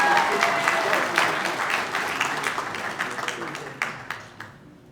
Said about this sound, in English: let's give one more round of applause to Mr. Ron Rogers